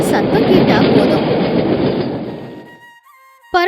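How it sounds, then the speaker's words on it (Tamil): A passenger train rumbles past loudly along the track, its roar fading over a few seconds, followed by a brief sharp whistle-like burst at the end. "ஒரு பேசஞ்சர் ட்ரெயின் அந்த ட்ராக் வழியா தான் கூவும் சொல்லிக்கிட்டு போய்கிட்டே இருக்கும்"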